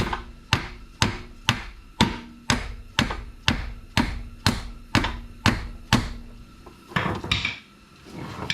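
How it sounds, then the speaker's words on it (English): Hammer tapping a Honda Civic front suspension part into place, about a dozen evenly spaced sharp metallic knocks roughly twice a second, close and loud, followed by a few scuffing handling sounds. "I gotta go get a hammer and give it a love tap."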